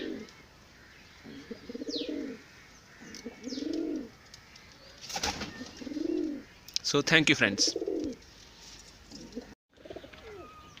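Pigeons coo in a run of about six soft, rolling calls, evenly spaced and close by, with a couple of short rustling bursts between them and someone speaking briefly.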